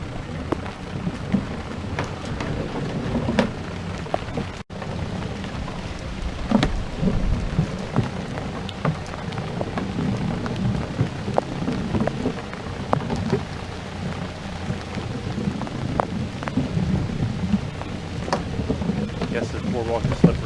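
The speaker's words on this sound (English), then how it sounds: "And it's starting to rain." Steady rain from a thunderstorm near a swamp boardwalk, a dense patter with scattered sharp drops and low rumbling, continuous and close throughout with no speech.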